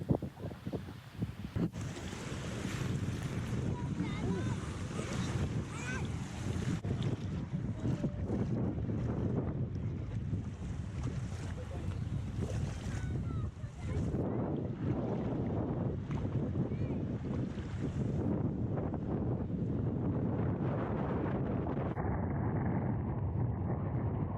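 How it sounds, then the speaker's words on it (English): Strong wind at the Dead Sea in Jordan buffets the microphone in a steady, heavy roar with gusty surges, water and surf noise underneath, no clear talking. "It was really windy this day"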